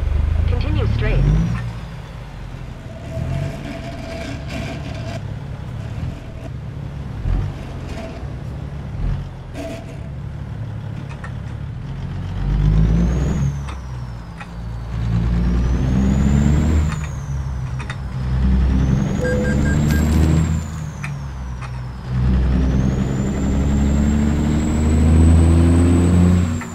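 Peterbilt 379 truck engine in American Truck Simulator, a steady low diesel drone that swells and rises in pitch as it pulls through gears, with whining turbo-like tones near the end and a voice talking over parts of it.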